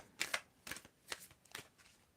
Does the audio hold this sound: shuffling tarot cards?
yes